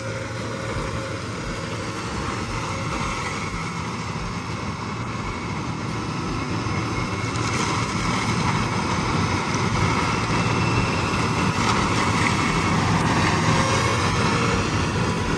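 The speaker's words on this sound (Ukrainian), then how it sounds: "Це, кстати, мульчер польського виробника" A new Polish-made forestry mulcher works steadily nearby, a loud continuous grinding machine roar with a high whine that holds for the whole stretch, no voices over it.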